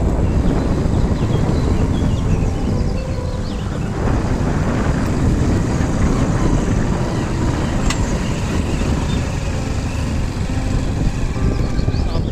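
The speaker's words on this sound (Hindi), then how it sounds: "तो मोटरसाइकिल पे हम सफ़र कर रहे हैं" Motorcycle riding along a village mountain road in Haripur, with a steady engine drone mixed with heavy wind rush against the microphone throughout.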